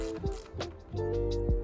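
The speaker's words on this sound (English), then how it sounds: "For that, we'll need a 10mm wrench and a 5mm hex." Wrench ratcheting a nut off the bolt of an e-bike front headlight on a front rack, a few short clicking bursts close up with no talking.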